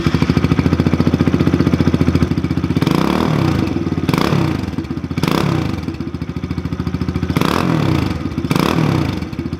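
Kawasaki KLX110 pit bike engine idling indoors about five feet away, a loud steady mechanical chug with a few short throttle blips that swell and fall back, and no one speaking over it.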